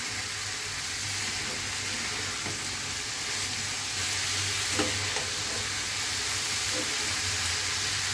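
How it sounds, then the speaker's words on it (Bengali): Bitter gourd and dal stirred and slowly fried in a pan over low heat, a steady sizzle running throughout with intermittent scraping strokes of a spatula, close and continuous. "জাস্ট এখন নেড়ে মিশিয়ে আস্তে আস্তে ভাজি করে নিতে হবে"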